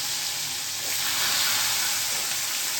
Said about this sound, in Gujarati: લસણ જેવું તેલમાં નાખું ને ભેગો સીધો વઘાર કરવાનો